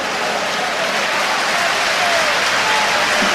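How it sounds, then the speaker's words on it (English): Football crowd at a West Brom versus Burnley Championship match applauds a player being substituted, a dense continuous roar of clapping from a large stadium, steady and full for the whole stretch. "Gets a warm round of applause."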